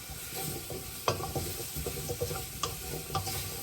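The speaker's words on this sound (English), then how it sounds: "I'm going to add the carrots and potatoes. Stir this a bit more." Carrots and potatoes being stirred in a pot of browning rustic stew, with quiet, irregular spoon scrapes and soft clicks over a low background sizzle.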